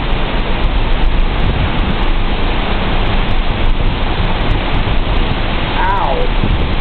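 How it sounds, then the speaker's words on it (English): Hurricane Tomas at landfall, with loud, unbroken roaring wind and sideways driving rain close to the mic, and a faint voice briefly underneath. "It is so windy and rainy."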